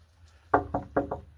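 Four sharp knocks on a door of an old, long-abandoned wilderness building with a metal roof, in two quick pairs, fairly close and loud against a quiet background.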